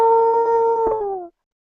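A voice imitates a wolf howl: one loud, sustained, close tone that slides slightly downward and cuts off after about a second.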